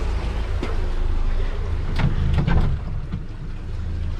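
A pontoon boat's outboard motor idles at a boat ramp as a steady, close rumble under wind noise, with a few brief knocks and clicks along the way.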